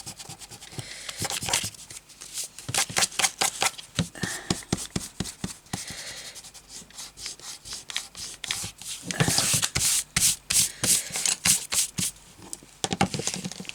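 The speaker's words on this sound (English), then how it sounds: "We can erase that, please." Pencil marks on a craft bag pocket insert being erased, a rapid rhythmic scrubbing of rubber against paper in repeated close bursts with brief pauses.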